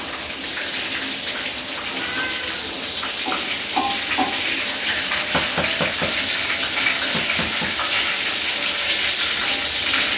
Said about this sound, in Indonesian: Telur puyuhnya juga digoreng sebentar.